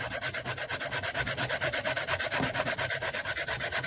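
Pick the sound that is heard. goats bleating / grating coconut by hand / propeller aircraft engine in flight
grating coconut by hand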